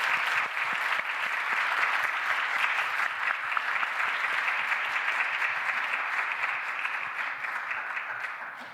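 Applause fills a church youth worship service, a steady crowd of hands clapping loudly and evenly throughout, tapering slightly at the very end.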